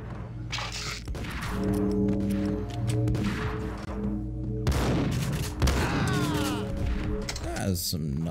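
Rapid gunfire in the Max Payne PC game, with repeated bursts of shots and heavy thuds over about eight seconds and someone talking over the action.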